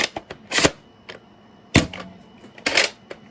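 A few sharp clicks and snappy bursts sound in an uneven sequence as a Siren Maulr foam dart blaster fires Adventure Force darts, with quiet gaps in between.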